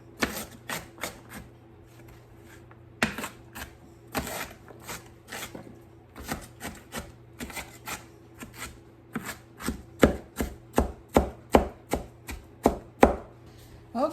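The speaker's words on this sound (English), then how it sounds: "So I'm gonna chop up our rhubarb first" A knife chops rhubarb on a cutting board in quick bursts of sharp taps, pausing between runs and growing louder and more regular near the end.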